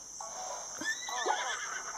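A horse whinnies in Zelda: Breath of the Wild, a short, clear neigh rising and wavering over a faint steady game background, with nobody speaking over it.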